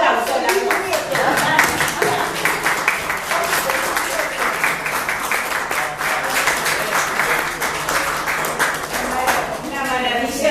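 A conference audience bursts into sustained applause, many hands clapping in a dense, even rhythm that stays loud and close for the whole stretch, with no talk over it.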